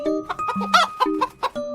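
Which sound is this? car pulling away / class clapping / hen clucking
hen clucking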